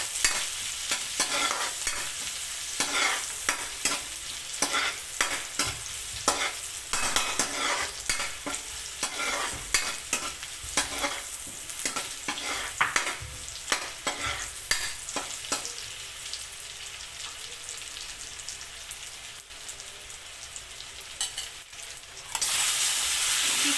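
Garlic sautéing in a pan, stirred repeatedly, for ginataang kalabasa at sitaw: steady close frying sizzle and hiss broken by frequent scraping stirs, with a louder burst of sizzle near the end.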